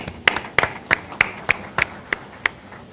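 A small audience gives a few sparse, separate hand claps in a room at a retail industry conference, about eight distinct claps spaced evenly rather than a full ovation, faint and thin over quiet background.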